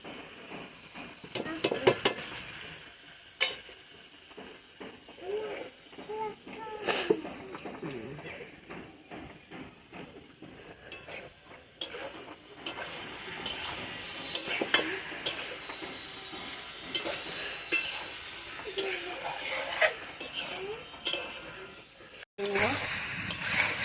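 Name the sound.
cumin, chilli and ginger paste frying in pan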